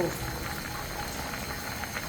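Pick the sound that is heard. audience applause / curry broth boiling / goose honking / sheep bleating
curry broth boiling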